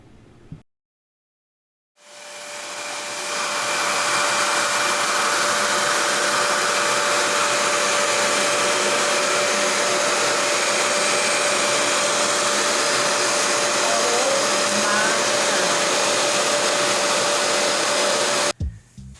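A reverse-air hair dryer drying fine natural hair blows with a loud, steady whoosh and a constant whine, starting after a brief silence and running continuously before cutting off.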